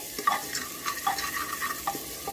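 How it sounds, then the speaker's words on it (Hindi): Garlic and ginger fry in a pan with ajwain, giving a soft steady sizzle with a few light stirring scrapes and clinks, close by and without speech. "अब हम ये लहसुन और अदरक को इसमें डाल देंगे। ठीक, ये डाल दिया है मैंने और अब हम इसे थोड़ा थोड़ा भून लेंगे इस तरह से"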